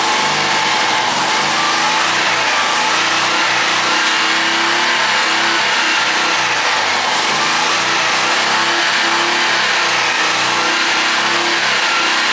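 A Citroën Méhari just pulled out of a barn runs with a steady mid-pitched engine note, revving up and down repeatedly for several seconds, loud and close with no talking.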